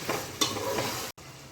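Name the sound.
frying and stirring masala for mutton biryani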